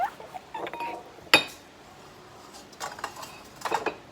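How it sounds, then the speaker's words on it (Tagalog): Garlic pounded in a mortar for spicy kimchi, a sharp loud strike followed by scattered lighter knocks and taps, close and without talk. "Itong garlic ay dikdikin ko dito guys."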